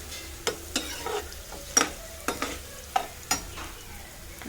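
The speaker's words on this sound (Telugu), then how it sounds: "కొంచెం అయితే అల్లం వేసానండి, ఉల్లిపాయలతో అదే మగ్గుతుంది అని." Ginger and chopped onions sautéing in a pan, a soft steady sizzle under a string of sharp spoon-against-pan scrapes and taps spaced irregularly, close and moderately loud.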